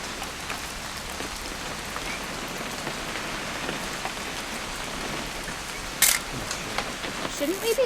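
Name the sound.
rain in What Remains of Edith Finch video game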